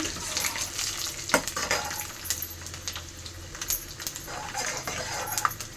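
Semolina sizzles and rustles in a hot pan as it is stirred, a steady soft crackle with scattered scraping clicks, alone and fairly close.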